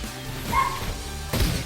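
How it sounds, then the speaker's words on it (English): A dog barks once, a short loud yip close by, with a faint crash and whine of game sound around it. "that's a dog"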